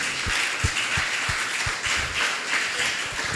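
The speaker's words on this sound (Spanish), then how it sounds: "Dale un fuerte aplauso a Dios." Applause from a church congregation during a sermon, with a wash of clapping and a few sharper individual claps standing out, steady over a few seconds.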